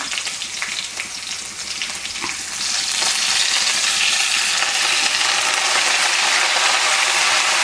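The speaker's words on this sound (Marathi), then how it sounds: "आता आपण भाजी टाकूया सगळे" Chopped vegetables tipped into a hot frying pan, a loud sizzle that jumps up partway through and then holds as a steady, close crackling fry, no talk.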